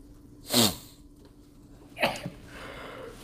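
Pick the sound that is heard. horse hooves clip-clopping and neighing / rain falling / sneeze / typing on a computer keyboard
sneeze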